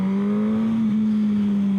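A 2016 Suzuki GSX-S 1000 motorcycle engine, a K8-derived inline-four, hums at a steady, even drone while riding, with wind rush over it and no talking.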